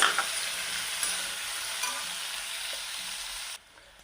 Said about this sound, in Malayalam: അപ്പോൾ ഇതെല്ലാം നമുക്ക് നന്നായി ഒന്ന് വഴറ്റിയെടുക്കാം.